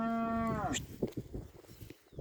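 A single loud, drawn-out moo from a cow on a farm, nearby and sustained, sliding downward at its end, followed by quieter shuffling and background noise.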